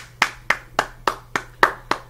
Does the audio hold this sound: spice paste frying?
no